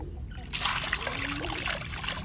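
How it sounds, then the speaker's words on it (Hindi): Water poured into a container holding a tylosin and multivitamin medicine mixture for birds, a steady close trickle and splash lasting about two seconds without talk. "अब इसमें हम पानी डालेंगे।"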